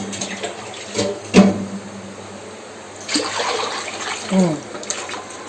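Water poured into a cooking pan to boil noodles, heard as a few short splashing gushes at close range separated by quieter stretches, with a voice talking in between.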